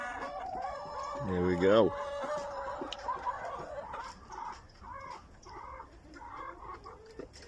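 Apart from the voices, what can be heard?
rescued hens clucking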